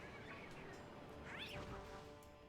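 A person's voice imitates a cat, giving a few soft, rising and falling meows over a steady background hiss.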